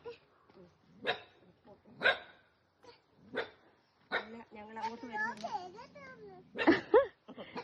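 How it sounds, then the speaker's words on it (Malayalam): A dog on a sun-baked roadside near a dried-up stream barks in several sharp bursts spaced about a second apart, fairly close, followed by people talking nearby. "ഇത് പിന്നെയും വരുന്നുണ്ട് കേട്ടോ പട്ടി"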